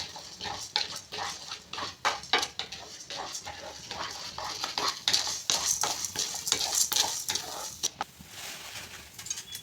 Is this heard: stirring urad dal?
yes